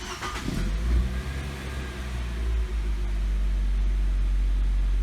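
A Nissan Sentra with a stalling-at-idle fault cranks and fires, with a brief rev followed by a steady low idle drone, close and loud.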